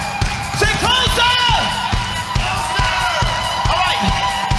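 A live concert audience claps and stomps in a steady, loud rhythm, the sharp thumps landing roughly once per beat, while the crowd whoops and cheers over it.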